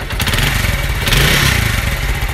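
A modified motorcycle engine starts up and revs hard, a loud, close, continuous rumbling roar with rising and falling throttle and no talk over it.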